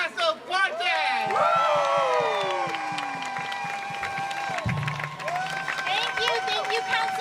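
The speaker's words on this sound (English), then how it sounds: "Please put your hands together for Congresswoman Alexandria CORTES" A street crowd at a St. Patrick's Day parade in Sunnyside, Queens, claps and cheers steadily for a congresswoman, the applause and babble sustained and fairly loud, with high tonal music or whistles ringing over it.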